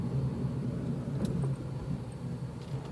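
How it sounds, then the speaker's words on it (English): A stock 2009 Honda Civic drives along, a steady low engine and road rumble heard from inside the car throughout, with no talking. "this is my first time ever driving an actual Honda Civic."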